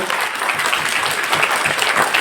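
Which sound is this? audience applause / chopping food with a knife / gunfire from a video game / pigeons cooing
audience applause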